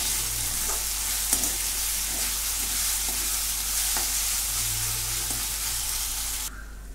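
Ginger-garlic paste sautéing in hot oil in a pan makes a steady, close sizzle and crackle, broken by faint spoon stirs, with no talking.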